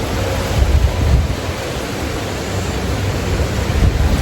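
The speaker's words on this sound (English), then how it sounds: "But every time the gusts pick up, they're a little more." Strong wind gusts ahead of Hurricane John in Oaxaca, Mexico roar close to the microphone as a continuous rumbling rush that swells and eases, with no voices.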